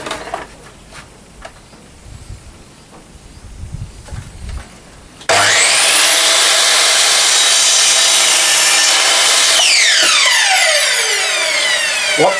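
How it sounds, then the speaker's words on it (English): Power drop saw cutting timber while building a rig for a trailer, a loud steady whine lasting several seconds after quieter handling noises, then spinning down toward the end. "Come on, drop saw."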